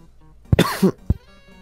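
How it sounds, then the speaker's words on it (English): Two short, sharp coughs close to the microphone, one followed by a rougher throat-clearing hack, with a quiet pause between bursts. "Have to have another cough session."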